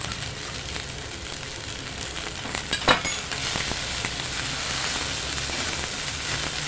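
Okra bhindi sabji sizzles steadily in a pan while being stirred, a constant close frying hiss with a few brief scraping clatters from the spoon midway.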